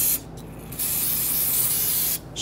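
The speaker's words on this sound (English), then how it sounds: "Spray it on any residual brake fluid." Brake cleaning solvent is sprayed from an aerosol can onto leftover brake fluid during rear brake hose replacement on a 2006-2012 Toyota RAV4. Two short hisses come first, then one longer, steady blast at close range.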